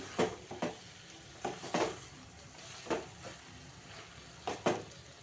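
Gongura chicken curry frying in a pan, a soft sizzle under repeated clinks and scrapes of a spoon stirring against the pan, coming in irregular bursts.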